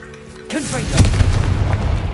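A Confringo blasting spell in Hogwarts Legacy, bursting into a loud booming explosion with a rumbling tail after a short whooshing cast, with a voice calling out just before.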